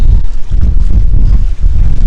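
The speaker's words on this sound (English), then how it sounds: "It is so windy." Strong wind on a cold camping trip buffets the microphone in a loud, continuous low rumble with gusting surges, no voices over it.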